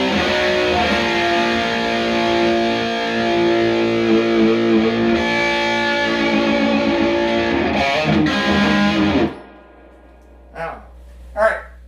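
An electric guitar runs through a Jose overdrive pedal into a Fender Deluxe Reverb amp, playing loud, sustained distorted chords and notes for about nine seconds. The sound then stops abruptly, and brief speech follows.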